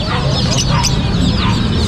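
Chickens clucking at an outdoor pet market, close and loud, a dense chorus of overlapping clucks and squawks filling the moment.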